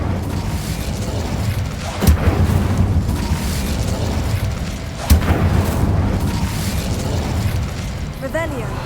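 Incendio fire spell blasts cast repeatedly in the Hogwarts Legacy video game, two sharp booming bursts about three seconds apart over a steady rumbling game soundscape, with a brief whooshing sweep near the end.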